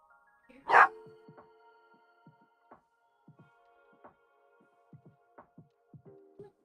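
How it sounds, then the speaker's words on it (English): A dog barks in short, sharp bursts, the first loud and close, then a run of shorter yips spaced irregularly over several seconds, with a faint steady hum underneath. "Sorry, my dog's going nuts right now."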